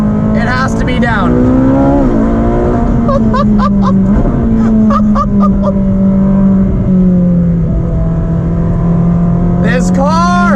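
A sports car engine climbs toward its 9,000 RPM redline, its loud droning tone rising and falling over several pulls with sharp revving bursts near the start and end, heard from inside the cabin with a voice talking over it.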